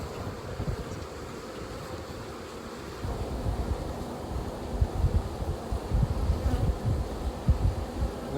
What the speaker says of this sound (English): And there's just a ton of bees in this box.